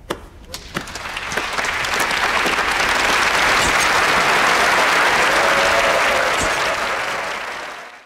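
A theatre audience breaks into loud, sustained applause, starting from a few scattered claps and swelling into a dense wash of clapping before tapering off at the end.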